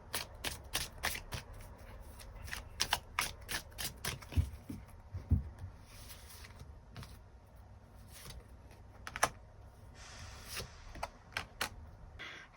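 Tarot cards being shuffled and drawn in a fortune reading, with a steady run of close, crisp riffling flicks and slaps, followed by softer sliding and occasional taps as cards are laid out.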